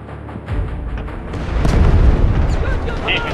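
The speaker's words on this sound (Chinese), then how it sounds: "炮击即将抵达" Artillery strike explosions in the mobile shooter Delta Force: Mobile, heavy booming blasts swelling and rolling together, loud and close, with radio voices speaking over the start.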